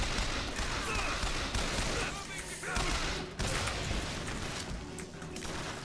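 Gunfire from a slow-firing weapon in BioShock Infinite crackles through a dense, noisy battle mix, with shots and crashes overlapping in a steady wash and a voice talking over it.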